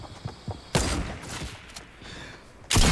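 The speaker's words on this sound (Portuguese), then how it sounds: "como aquele tiro de sniper não pegou nesse cara" Gunfire in the video game Fortnite, with one sharp, loud shot near the start, another burst near the end, and lighter clatter between them.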